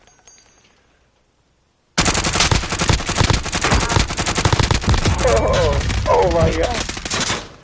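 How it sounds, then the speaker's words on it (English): Dense automatic and rapid gunfire in a battle royale video game erupts after two seconds of near silence and continues loud and sustained, with a player's brief exclamation heard over the shooting. "Who else is shooting?"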